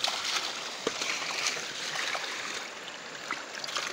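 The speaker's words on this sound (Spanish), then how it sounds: "estamos lavando la motillo porque tiene derecho a bañarse también ella" Water splashes and trickles steadily while a small motorcycle is washed outdoors, a close, continuous wet spattering with no talk.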